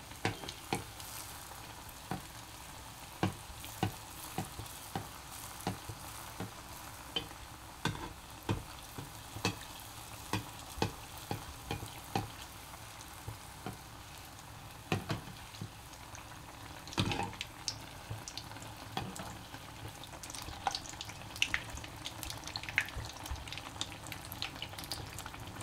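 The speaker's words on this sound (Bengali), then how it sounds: "মালপোয়াগুলো এইভাবে ভেজে নেব।" Palm fruit malpua pancakes frying in hot oil, a steady close sizzle with irregular bursts and crackles throughout, no voices.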